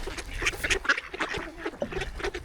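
Ducks quack in a dense, overlapping chorus while being fed, with many rapid calls close by and busy background noise.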